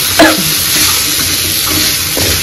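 Vegetable bhaji with coriander is sautéed in a pan on a gas stove, giving a loud, steady close-up sizzle with a brief scrape of stirring near the start.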